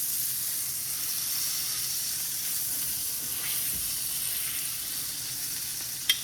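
American Wagyu steak sears in a pan of butter with a steady, even sizzle that holds for the whole stretch, close and unbroken, ending with one small sharp tick. Nobody speaks.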